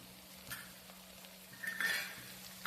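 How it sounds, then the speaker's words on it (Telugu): Vegetables for a vegetable dum biryani are stirred in a pot with a metal spoon, producing soft scraping and a few light clinks over a faint steady hum, close but quiet. "ఇప్పుడు ఒకసారి కలుపుకుందాం మంచిగా"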